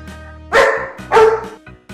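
A dog barks twice in close succession, loud and close, followed by a softer short yip at the end.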